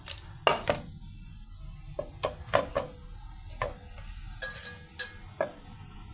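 Fish pieces are tossed with ginger-chili paste and cocoa powder in a bowl, giving a string of sharp, close clinks and scrapes at an uneven pace with soft wet stirring between them.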